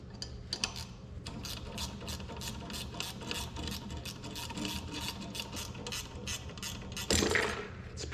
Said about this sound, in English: Time for a ratchet and wrench.